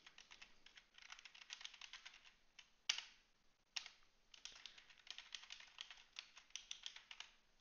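Rapid, fairly quiet clicking of computer keyboard keys as an email is typed, with rhythmic bursts and brief pauses, one sharper key strike standing out, and no speech.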